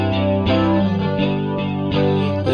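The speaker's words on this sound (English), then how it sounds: "And then I'm going to add the chorus and flanging." Electric guitar run through an amp emulator with chorus and flanger effects in a Reason rack, sustained swirling chords with a few re-struck attacks, steady and up close.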